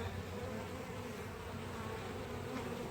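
Honey bees buzz steadily around an open hive during a spring inspection, a constant close drone with no voices.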